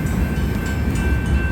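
Union Pacific locomotive 8860 leads an outbound manifest freight train, giving a loud, steady low rumble with a sustained high whine or squeal running through it.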